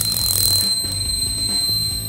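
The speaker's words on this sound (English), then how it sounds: "We get a really annoying noise, a bit of light, a fan, and a very annoying buzzer." A buzzer on a beginner electronics kit sounds as a continuous shrill, high-pitched tone, loud and close, over faint low handling noise.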